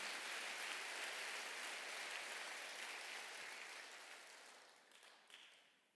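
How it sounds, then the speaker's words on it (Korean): A church congregation at a Sunday service breaks into applause, a dense wash of clapping heard from a distance at low volume, thinning out toward the end. "박수하세요."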